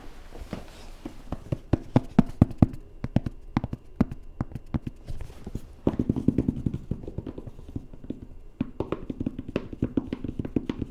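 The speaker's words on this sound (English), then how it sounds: "It's a nice cardboard sound." Cardboard box being handled and opened, a Steam Deck package: dense crackling taps, scrapes and thumps of stiff cardboard, close and irregular, steady through the whole stretch with a fuller burst of handling in the second half.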